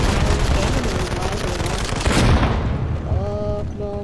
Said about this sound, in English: Wow, frag grenades are so cool.